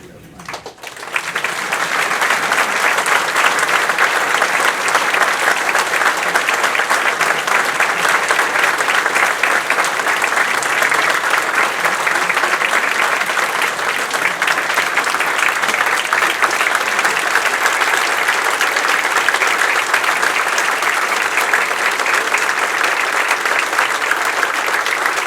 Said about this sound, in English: please hold your applause till we get them up here